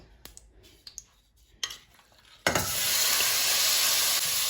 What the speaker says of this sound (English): I'm going to start frying the chicken breast